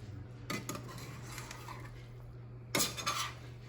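A utensil scrapes a stuffing mixture across a pan toward the center for a pork tenderloin dish, two distinct close metallic scrapes with a short pause between them, over a low steady hum and with no voices.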